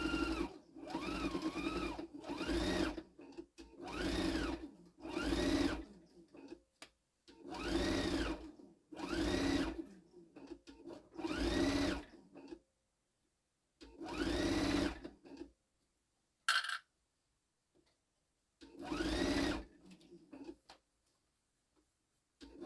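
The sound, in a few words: sewing machine sewing a zipper onto a pouch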